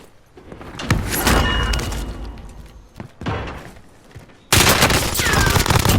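Submachine gun fire in the video game Warzone, loud close bursts and rattling volleys with heavy impacts, pausing briefly before a sudden, sustained burst of gunfire near the end.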